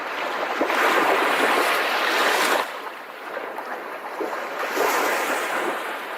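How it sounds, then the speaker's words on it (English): Waves wash steadily onto the Puget Sound shoreline, a broad, continuous surf hiss that swells and eases in slow surges, with some wind rumble against the microphone and no voices. "As waves caress the shores of Puget Sound"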